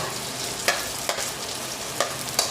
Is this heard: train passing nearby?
no